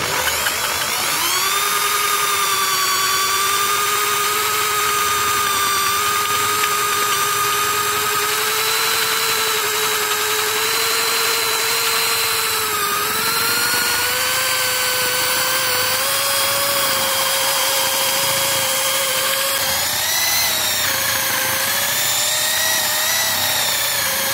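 A steady, high-pitched power drill whines on continuously for the whole stretch, drilling a hole for a concealed cabinet hinge, its pitch drifting slightly, loud and close with no breaks.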